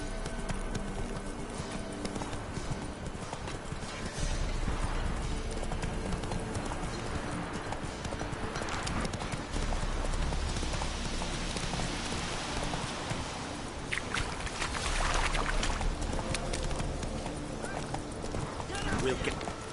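Hooves of the horse Roach clip-clop at a gallop in The Witcher 3, a steady rapid rhythm running through the whole stretch over rain-like hiss, with voices talking intermittently.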